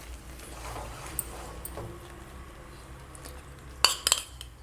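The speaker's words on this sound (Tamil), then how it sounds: "கட்டி பிடிக்காமல் கிளறி விட்டுட்டே இருக்கணும். கொஞ்சம் கொஞ்சமாக நெய் விட்டு கிளறிக்கிட்டே இருக்கலாம்." Carrot Mysore pak with ghee being stirred in a pan, quiet scraping for most of the stretch, then a cluster of sharp metallic clinks from the spoon against the pan near the end.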